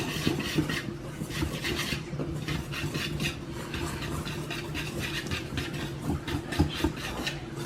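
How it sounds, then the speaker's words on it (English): Dry ingredients for a sugar-free blueberry banana bread being whisked together in a bowl, a steady close scraping and rubbing rhythm that continues without pause and with no talking. "I like to take my dry ingredients and just whisk it together so that it's mixed already."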